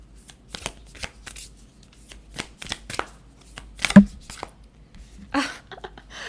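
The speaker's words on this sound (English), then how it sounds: "I'm going to grab some Moonology Oracle cards now." Moonology Oracle cards being shuffled, a string of quick riffling snaps and soft slaps with irregular pauses, close and crisp, with a brief flurry near the end.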